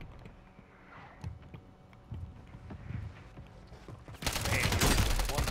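Game gunfire on Rebirth Island in Call of Duty Warzone: scattered distant shots under players talking, then a sudden loud sustained burst of close automatic fire in the final second.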